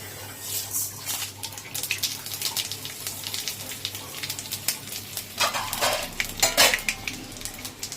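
Bay leaf, mustard seeds, radhuni and fenugreek tempered in hot oil, a crackling sizzle broken by sharp clinks and scrapes of a spoon against the pan, a cluster of louder spatters near the end; no talk.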